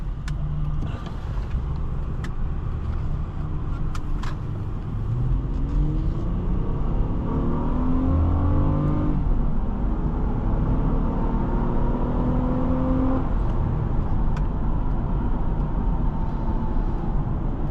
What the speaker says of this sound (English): it's okay acceleration for a 3-row SUV, nothing crazy, but that VTEC always sounds good